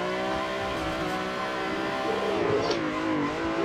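A BMW E30 drifting in Assetto Corsa, its engine revving at a steady high drone that wavers as the car slides, with tire noise building near the end.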